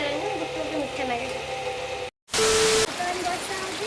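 Heavy rain beats down steadily at a rural home, a dense hiss of drops on surfaces with a voice speaking over it, then a short silent cut and a louder, closer burst of downpour.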